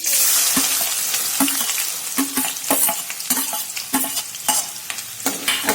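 Finely chopped onion fries in hot oil in a kadai on a high flame, a loud, close sizzle broken by repeated rhythmic stirring scrapes of a spoon against the pan.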